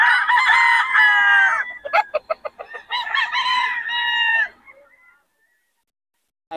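A rooster crows loudly and close by, followed by a quick series of clucks and a second crow, then quiet. Rooster at a Bocaue Day event in Bocaue.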